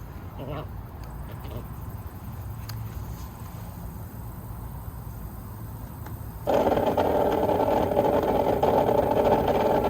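An above ground pool pump motor runs unprimed with no filter inside, a steady mechanical hum that jumps louder and fuller partway through and holds there, with faint voice under the drone early on.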